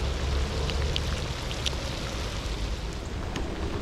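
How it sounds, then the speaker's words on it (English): Steady rain pours down around an angler out crappie fishing, a dense even hiss of drops striking water and the boat, with a few sharper taps standing out, close and continuous with no voices. "I did not know this rain was coming."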